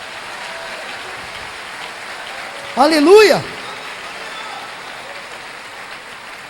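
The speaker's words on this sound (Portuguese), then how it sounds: "Você pode aplaudir o Senhor, dar glória a Deus, irmão?" A church congregation claps steadily in a soft, even wash of applause, with a single voice briefly shouting out over it midway.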